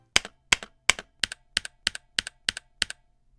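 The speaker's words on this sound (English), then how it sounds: "audible ping noise when you bottom out on the keyboard" Keys on a CQ63 mechanical keyboard are struck in a steady sequence of ten crisp, evenly spaced clacks, each with a slight metallic ping as it bottoms out, close and isolated.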